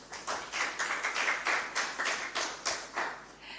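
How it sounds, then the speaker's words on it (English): Audience applause in a conference hall at a women in financial markets event, a steady patter of handclaps with individual claps standing out, moderately loud and continuous without speech. "Another round of applause for Joyce."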